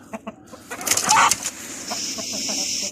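Indian (Hint) breeding chickens dust bathing in soil give short clucks and squawks with a quick burst of flapping wings, close by, followed by a steady faint hiss.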